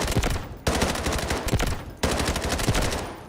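Automatic gunfire at a firing range in the Delta Force video game, two loud sustained bursts of rapid shots with a short pause between them, close and dense with no talking.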